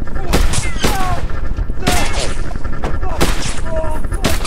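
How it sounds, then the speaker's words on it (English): Gunfire in a horror video game set in a haunted forest, with loud repeated shots and sharp booms in rapid succession over a constant roar, and players talking over it. "Is that gunfire?"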